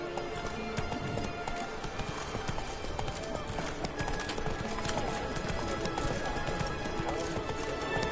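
Roach, a horse in a video game, trots with steady rhythmic hoof clip-clops, brisk and close, over a busy game soundscape, with a faint voice at times.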